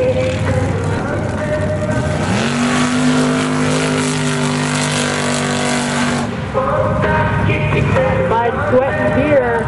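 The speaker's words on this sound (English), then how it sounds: "Chevy pickup cut in half, a 406 small block with a 200 shot of nitrous." A Chevy pickup cut in half, running a 406 small block with a 200 shot of nitrous, roars loudly through a mud bog, its engine revving up and holding a high drone before dropping off.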